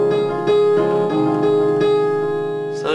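Left-hand piano part of a song, a few low notes struck in a steady repeating pattern, sustained and alone with no talking.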